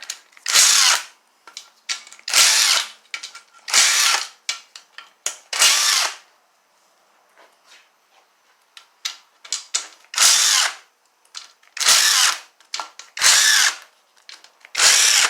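Power tool removing bolts from a Chevy Cruze oil pan during an engine teardown: short, loud, close bursts of whirring and ratcheting, about a dozen in an uneven rhythm, with quiet gaps between.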